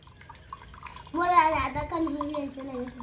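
Coconut water gurgling into a glass, bubbly and wavering, rising suddenly after a quiet start, with a voice faintly nearby.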